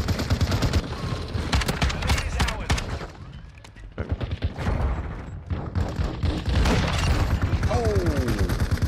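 Gunfire from the Battle Buddy War Computer Pack in a video game, rapid automatic bursts that pause briefly in the middle, then resume with a booming hit, loud and close, with a player's voice exclaiming over it.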